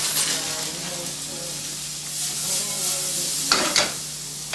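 Persimmon pieces tossed in a pan with crushed walnuts and thyme give a steady close sizzle, with brief scraping stir sounds near the end.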